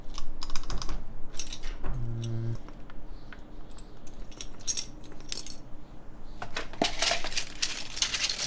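Keystrokes on a custom 65% mechanical keyboard built on a Rae Adamas case: irregular clacky taps close by, with a short run of quick presses near the start and denser clusters of key strikes toward the end.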